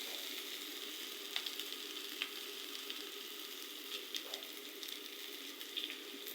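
Vegetable bhaji fries in a pan with a steady, close sizzle and crackle, scattered sharp pops and a few light stirring scrapes, and nobody talks.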